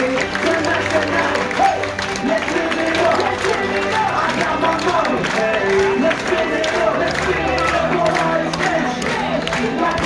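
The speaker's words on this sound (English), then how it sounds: "let's keep the applause going to show your appreciation for your service team" A crowd aboard the P&O Ventura cruise ship claps and cheers for the galley crew, steady applause with a lively, busy murmur underneath, loud and sustained throughout.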